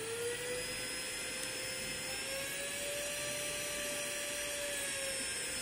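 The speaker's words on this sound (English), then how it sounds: "I can increase the RPM of this high power DC motor and also decrease the RPM" A high-power DC motor under Arduino RPM control whines steadily and close. Its tone climbs slightly and then eases back down over a constant airy whoosh.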